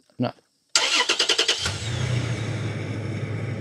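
A Toyota Tacoma pickup truck with a freshly connected battery cranks with a quick series of rhythmic starter pulses, catches, and settles into a steady, close idle rumble.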